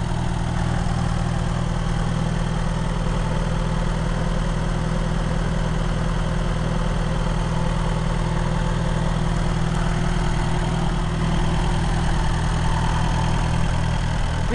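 A vintage Kohler 4 kW 110-volt lightplant generator runs steadily after a warm start, its engine producing a loud, constant low rumble and chug. The sound is close and unchanging with no talking.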